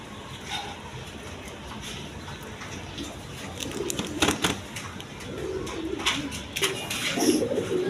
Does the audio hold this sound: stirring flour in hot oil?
no